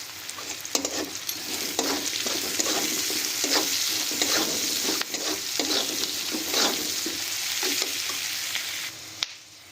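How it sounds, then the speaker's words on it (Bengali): Onions and gima saag frying in a pan with turmeric and salt, a constant sizzle broken by repeated scraping strokes of a spatula stirring, close and fairly loud, ending with a brief pause. "পেঁয়াজটা খুব ভালোভাবে ভাজা হয়ে গেছে।"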